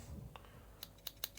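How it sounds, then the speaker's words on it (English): Small scissors on a Victorinox Spirit MX Clip multitool open with a few faint, sharp metallic clicks in quick succession against quiet background hiss. "we're going to go straight to the scissors. Get those opening wide. So get the scissors out"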